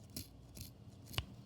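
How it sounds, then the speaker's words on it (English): Sharp scissors snip through craft material for a fall decoration, three separate crisp cuts spaced across a quiet room, each brief and close. "these are pretty sharp scissors, so you might need to cut a little bit more"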